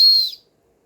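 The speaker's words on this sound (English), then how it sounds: "Now, if you wanted to have a whistle on a handle, you don't really need it." A single short, shrill blast from the small whistle built into a tactical pen multi-tool, close and steady for about a third of a second before cutting off into silence.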